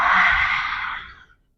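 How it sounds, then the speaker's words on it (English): Lion breath yoga exhale done while holding goddess pose, a single loud, forceful breathy rush up close that tapers off over about a second and a half, alone. "And now let's do lion breath."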